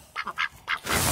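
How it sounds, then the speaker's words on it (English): Ducks quack in a few short, nasal bursts among chickens in a barnyard, fairly close, followed by a brief rush of noise. "I'm gonna go look at the ducks and chickens again"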